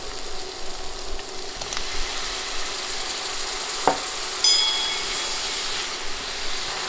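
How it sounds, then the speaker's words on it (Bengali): Spices are stirred in a pan of hot oil with a splash of water, making a soft, continuous sizzle broken by a few scraping and clinking touches from the spoon. No one speaks. "এবার নেড়ে মশলাগুলো তেলে ভেজে নিব।"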